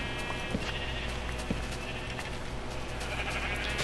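Sheep bleating in Minecraft, a few short synthetic bleats popping up over a steady background hum.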